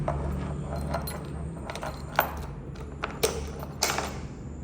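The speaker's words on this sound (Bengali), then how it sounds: "দুইটি চাবি একদম ইনটেক দুইটি চাবি" Several short metallic clinks and jingles of the two keys of a used Honda Hornet 2.0 motorcycle, close by, over a steady low background hum with faint murmuring.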